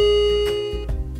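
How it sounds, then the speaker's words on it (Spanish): A digital doorbell rings out a short, clear melodic chime that rings on and fades away, with no one talking. "Si el sonido de su timbre es más como una melodía"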